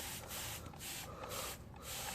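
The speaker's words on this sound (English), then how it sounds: "Just kind of spin it and spray it." Soap is sprayed onto a spinning Tesla Model 3 alloy wheel in several close, hissing bursts spaced about half a second apart, with no talking.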